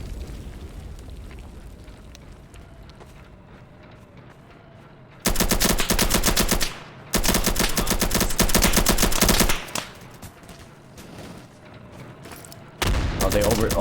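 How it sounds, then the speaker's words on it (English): Heavy gunfire in a multiplayer base-defence video game, arriving as several sustained loud bursts of rapid automatic fire separated by quieter stretches of low ambient rumble. "they're shooting from south 195"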